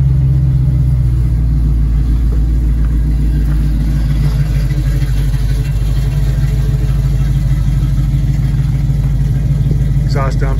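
A 1971 Chevrolet Suburban with an EFI engine runs steadily just after starting, a loud, continuous low rumble of idling engine with exhaust exiting behind the rear axle, close and uninterrupted throughout.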